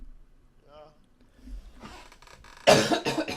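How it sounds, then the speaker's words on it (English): After a quiet stretch with faint murmuring, a person coughs sharply and close, a short burst of harsh coughs near the end. "Oh man, I hate coughing."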